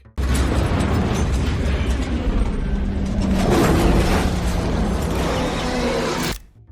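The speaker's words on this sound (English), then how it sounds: "This last one ends up with Dominic's father's car being totally destroyed." A truck smashes into a car in a movie action scene, a loud sustained crash of crunching metal and rumbling impact lasting several seconds before cutting off abruptly.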